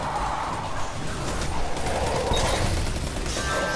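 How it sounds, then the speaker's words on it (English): Gunfire from shooting at another player in Destiny 2, a steady dense stream of shots over continuous game noise, moderately loud with no talk. "Oh, that's actually a player that I'm shooting at."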